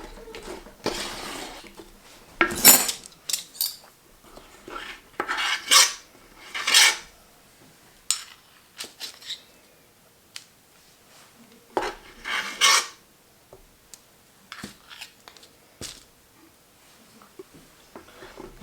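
Metal silverware spoons scrape and clink against a pot while scooping buttermilk praline candy, coming as irregular close bursts with quiet gaps between them, and there are no voices.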